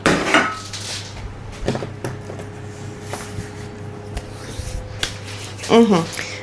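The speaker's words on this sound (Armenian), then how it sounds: "տեսեք երկու ջազվաները բերել եմ եւ բերել եմ այն թավան" Metal pots and a pan clank and clatter as they are handled, with sharp knocks scattered throughout while a person talks nearby.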